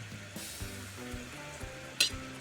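A mutton keema curry masala mixture of yogurt, coriander powder and mutton masala is stirred, giving soft mixing sounds over a faint background sizzle, with one sharp clink near the end.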